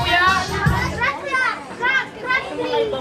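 Children in a classroom chatter and call out noisily over one another, with lively overlapping young voices rising and falling in bursts close by.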